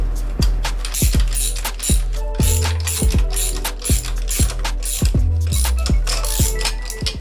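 A hand ratchet tightens a nut on a Honda Rebel 500 motorcycle frame slider, sounding a series of sharp rhythmic clicking strokes up close in quick bursts with short pauses between them.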